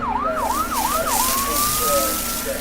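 A fire engine siren wails in four quick rising-and-falling whoops, then switches to a long steady tone, loud and close over low engine rumble.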